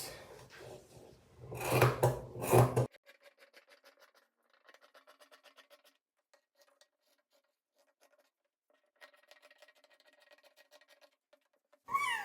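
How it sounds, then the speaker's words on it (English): Scissors snip through fabric while cutting out the front neckline of a baby girl's dress, with a burst of louder rustling at the start followed by quiet, intermittent crisp snipping and sliding, close by and without speech. "cutting the neckline for the front"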